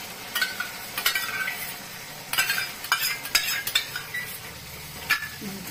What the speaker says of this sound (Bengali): দইটা দিয়ে সাথে সাথে খুব নাড়তে হবে, নাহলে দইটা ফেটে যাবে।